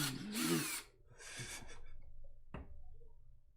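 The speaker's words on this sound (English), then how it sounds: "Oh, he's got power tools." A power tool, likely a drill, whirs in two short bursts, the first longer and louder, followed by a sharp knock and a faint low hum in a quiet room.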